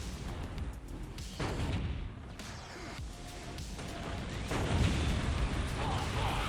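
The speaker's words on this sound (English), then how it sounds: "gradually being ground down by the Basilisk fire" Basilisk artillery in the Dawn of War Soulstorm strategy game pounds away in a dense, continuous battle din of booms, crashes and impacts, with a voice talking over the fighting.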